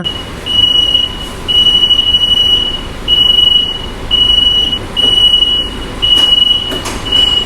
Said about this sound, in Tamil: ட்ரெயின் கிளம்பிருச்சுங்க